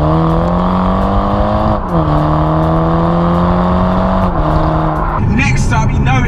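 A 2019 BMW Z4 G29 sports car engine revs up loudly and steadily, with short dips between rising pulls, close and continuous, and a brief tire or exhaust burst near the end.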